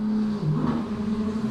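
Noble M400 race car with a 3-liter six-cylinder Ford engine revving loudly and steadily at a hillclimb event, a strong sustained engine drone with a brief dip partway through.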